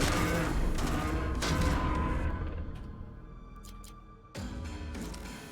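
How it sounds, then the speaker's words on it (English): Gunfire in the sci-fi shooter Jupiter Hell, a dense, loud burst of rapid shots and booms that thins out briefly before another heavy volley kicks in. "Start shooting."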